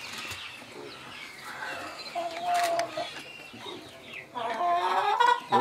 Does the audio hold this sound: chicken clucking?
yes